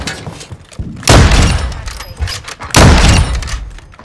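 Two heavy, booming shotgun blasts in a video game, spaced roughly a second and a half apart, each loud and close with a lingering tail, over quieter background game noise.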